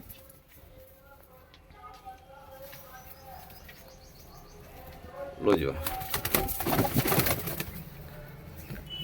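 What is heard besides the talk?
pigeons cooing, Punjabi Malai Chhatri pigeons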